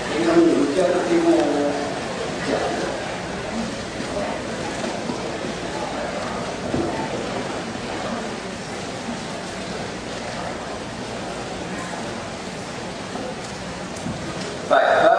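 Rain falls steadily in a continuous broad hiss with occasional low rumbles of thunder, and a voice is faintly audible at the start.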